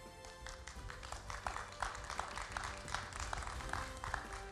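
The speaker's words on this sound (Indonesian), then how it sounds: "Tepuk tangan." Audience applause at an award ceremony at a university rectors' forum, a sparse, faint patter of clapping with distinct individual claps at a distance, continuing steadily.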